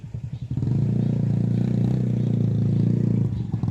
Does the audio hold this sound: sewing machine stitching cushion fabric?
no